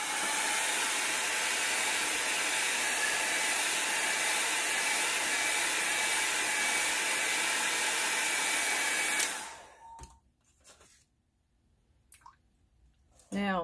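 A hair dryer blows steadily and loudly over wet watercolor paint for about nine seconds, then switches off, leaving quiet handling noises.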